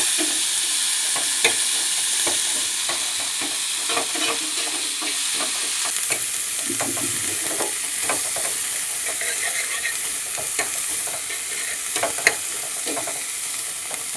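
Vegetables including carrot fry in a pan for Maggi noodles: a constant close sizzle broken by repeated scraping and tapping strokes of a spoon as they are stirred, with no speech.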